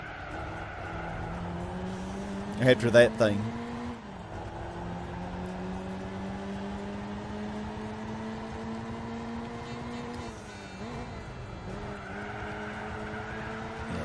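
A classic Lotus race car drives in Gran Turismo 4, its steady engine note climbing through gears with a short burst of tire squeal, a dip on a corner, then rising again; a few words are spoken briefly.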